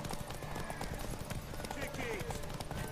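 Horse hooves clip-clop steadily on a road in The Witcher 3, a continuous rhythmic trot under game music and ambience, with someone talking over it.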